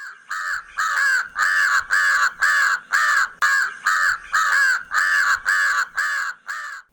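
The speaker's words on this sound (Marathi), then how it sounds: "म्हणजे काव काव करत थोड्या वेळाने ते उडून जायचे." Crows cawing in a rapid, evenly spaced series of about a dozen loud, harsh calls, close by and with no other sound.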